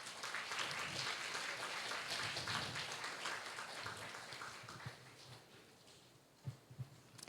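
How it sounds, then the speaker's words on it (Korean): A church youth congregation applauds to welcome a new member coming forward, a broad wash of many hands clapping that is loudest early and gradually fades, with a few louder knocks and rustles as it tapers off. "큰 박수로 환영해 주세요"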